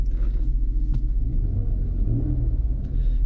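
A 2019 Jeep Cherokee Trailhawk engine idles after starting, a steady low rumble close by, broken by a couple of faint clicks.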